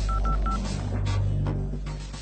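A quick run of three or four electronic keypad beeps as a phone number is dialed, followed by quiet room noise.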